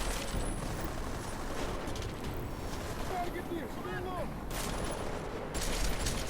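Gunfire in the video game Deus Ex: Mankind Divided, sounding as dense bursts of shots over a busy noisy mix of game effects, fairly loud and continuous.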